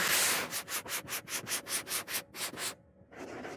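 A belt sander rubs back and forth across wood in quick regular strokes, about a dozen passes, then pauses briefly before starting again.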